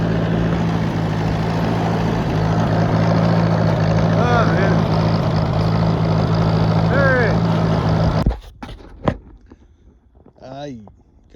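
A vehicle grinds and spins its wheels in deep snow on a woods road, a loud steady engine roar with harmonic hum for about eight seconds, then cutting off to quieter scattered sounds and brief speech.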